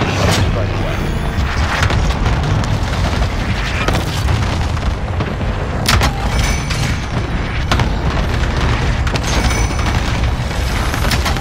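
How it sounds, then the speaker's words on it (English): Airstrike explosions on the Caldera map in Call of Duty roll on as a loud, dense barrage of deep booms and rumbling blasts, with brief radio-style voice callouts over the noise. "Airstrike, you are cleared hot."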